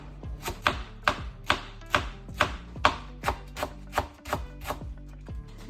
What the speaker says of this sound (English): So I'm going to try and chop this very finely